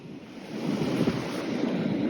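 Ocean waves washing up on an Oregon beach, a steady broad wash of surf that swells slightly louder after the start, with some wind noise on the microphone and no talking.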